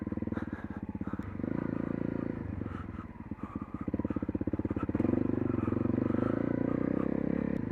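An adventure motorcycle engine thumps steadily along a slippery, greasy trail, a close, rhythmic low putter that surges and eases as the rider works through the mud, with faint clatter over it.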